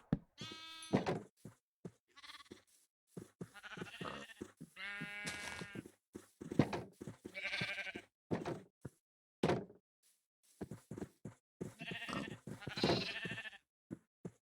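Sheep in a block-building survival game bleat repeatedly, a string of clear, close, wavering bleats with short gaps between them and no talking over them.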